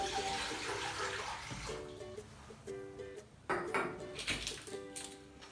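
Water from a jug pours into a cooking pot, a steady splashing gurgle with faint clanks of the vessel, close and moderately quiet, with no talk.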